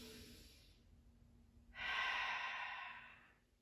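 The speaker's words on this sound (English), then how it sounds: "Breathing here." Slow, controlled breathing during a seated chair yoga pose: a soft breath fades out, then after a pause a longer, louder breath swells and trails away, close and quiet with no talking.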